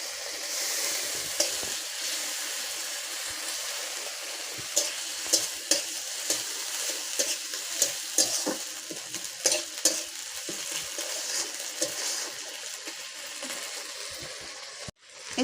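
Ginger garlic paste fries with prawns in a pan, a steady close sizzle broken by repeated scraping and tapping strokes of a stirring utensil.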